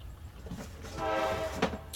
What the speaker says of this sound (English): Sorry for the train, you guys. It's just loud everywhere.